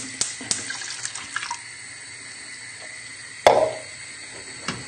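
Liquid, half white wine and half water, 700 millilitres in all, pours into a pan for poaching pears. The splash and trickle are soft and close, with a brief sharper splash partway through and no talking.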